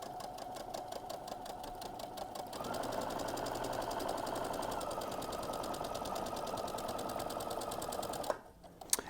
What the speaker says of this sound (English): Now I'm going to be sewing down the front side of the neck.